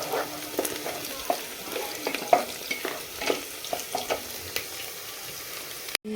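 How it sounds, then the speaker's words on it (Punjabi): Peas, potatoes and carrots sizzle and fry in a pan, with steady crackling and occasional stirring scrapes, close and moderately loud, no talk. "ਪਾਤੇ ਮੈਂ ਮਟਰ ਵੀ ਪਾਤੇ ਆਲੂ ਵੀ ਪਾਤੇ ਗਾਜਰਾਂ ਵੀ ਪਾਤੀਆਂ ਹੁਣ ਥੋੜਾ ਜਿਹਾ ਪਹਿਲਾਂ ਇਹਨਾਂ ਨੂੰ ਸੇਕ ਲਵਾਉਣੇ ਆ"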